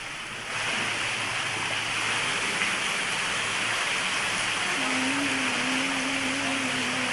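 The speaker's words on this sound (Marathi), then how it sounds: "ढगफुटी सदृश पाऊस झाला, त्यामुळे शेतामध्ये माती खरवडून गेलेली आहे।" Heavy cloudburst-like rain pours over the Kanhur Mesai area of Shirur near Pune, with flooding water. A dense, steady roar fills the whole clip and stays loud throughout, with a faint low hum in the later part.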